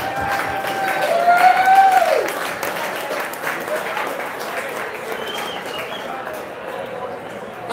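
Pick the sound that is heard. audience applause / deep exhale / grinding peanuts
audience applause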